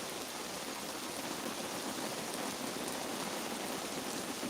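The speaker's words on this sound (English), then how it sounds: "the rain's coming down" Steady rain drums on a deployed awning during a thunderstorm, a dense continuous hiss of close drops with no pauses and no voices.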